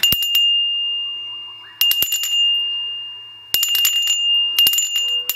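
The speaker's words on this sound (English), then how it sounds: "I am going to ring the bell 3 times." A bell struck four times, each ring a bright metallic ding with a clear ringing tone that decays slowly, spaced roughly two seconds apart with the last two close together, loud and up close.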